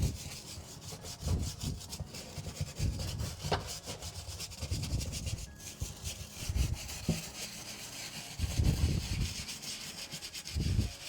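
A small brush scrubs Nicks Builder Pro leather boots, close and rasping, in repeated back-and-forth strokes with short pauses between bursts.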